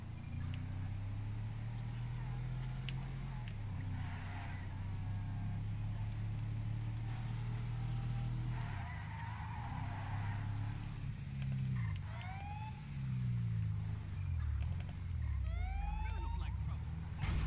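A Secret Service Suburban in GTA V drives along with a steady low engine drone, and wailing siren sweeps rise near the end. A person talks faintly over it at times.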